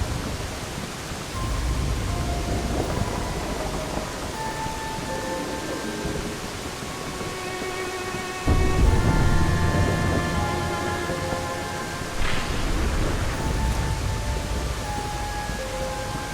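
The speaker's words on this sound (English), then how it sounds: "this is the first time I've ever felt the rain on my skin" Rain and thunder in the video game Final Fantasy VII: Dirge of Cerberus form a steady hiss of falling rain with a deep rumble swelling midway, under faint musical tones and no talk.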